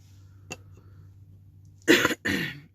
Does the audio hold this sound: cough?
yes